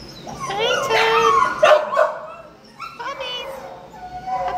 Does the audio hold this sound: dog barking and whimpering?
yes